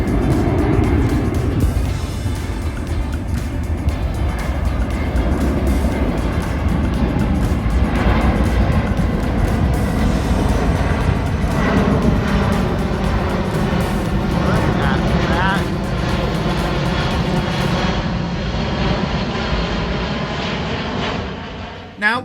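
Giant military training planes flying right overhead, a loud, continuous engine roar that holds steady and slowly fades toward the end.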